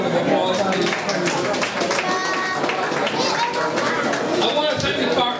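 Crowd at a road crawl event applauding project partners, lively outdoor clapping with scattered cheers and chatter, fairly loud and continuous throughout.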